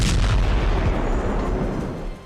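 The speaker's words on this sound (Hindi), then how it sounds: "इजरायली सेना ने गाजा में एक मस्जिद के पास भीषण धमाका किया।" Israeli air strike blasts in Gaza near a mosque: a loud, close, rumbling explosion with heavy low boom and rolling debris, fading over about two seconds with no voices.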